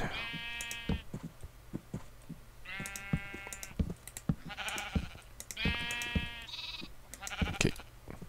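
Several lambs in the Minecraft video game bleat in repeated, clear calls spaced through the stretch, with soft thumping steps and game sounds between them and no talking.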